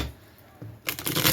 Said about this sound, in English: sometimes I like to shuffle halves and then shuffle those halves together